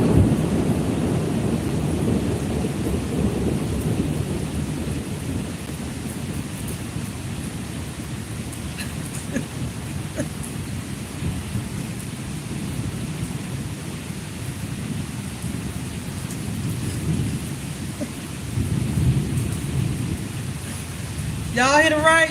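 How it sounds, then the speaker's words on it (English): Heavy rain pours steadily during a thunderstorm, a continuous loud wash of falling water with low rumbling thunder mixed in, lasting throughout with no talk over it. "Y'all hear the rain? You hear the lightning?"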